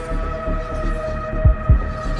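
Low mechanical hum of an elevator in Batman: Arkham Shadow, steady and throbbing, with two heavy thumps close together near the end.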